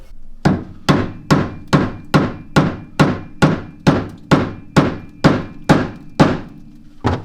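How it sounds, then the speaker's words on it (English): A Persuader 6100 hammer taps a sway bar bushing cap onto a RZR Turbo R. Fourteen sharp, evenly spaced metallic strikes ring out loud and close, about two per second, with no talk. "So I plan on using my Persuader 6100 here to tap this on."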